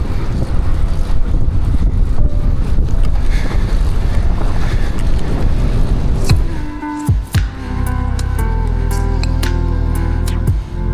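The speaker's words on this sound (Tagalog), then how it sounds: "Lakas ng hangin, nakakainis." Strong wind roars and buffets the microphone with heavy, continuous rumbling among rolling hills in San Juan, then eases slightly as scattered clicks and knocks come through.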